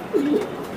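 A racing pigeon coos in its cage, two short low throaty coos close to the microphone in quick succession, followed by quiet room noise.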